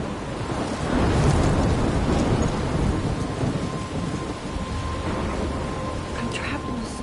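Video game thunderstorm on PS4: heavy steady rain with a deep rolling rumble of thunder swelling early, then continuing as a dense wash with a faint tonal hum, close and loud.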